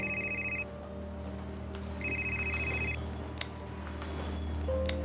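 A telephone rings in a Marathi film scene, its electronic ringtone repeating in evenly spaced bursts over a low steady room hum, moderately loud and heard alone.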